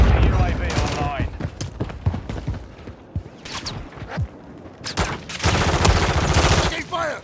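Gunfire in the Warzone video game: bursts of automatic fire and scattered shots crackle throughout, with heavier sustained volleys near the end, mixed with game effects and voice callouts.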